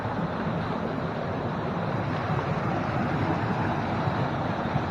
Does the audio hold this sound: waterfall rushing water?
yes